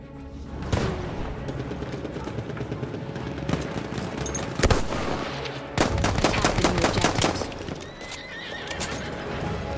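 Enemy artillery barrage in Battlefield 1 battle, sharp booms and bursts of gunfire cracking over a busy scene with galloping horse hooves and neighing, loud and near, with no talk.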